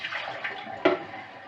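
Hot tap water pours steadily into bottles that have been freezing up, a continuous close splashing rush with a brief louder gurgle partway through.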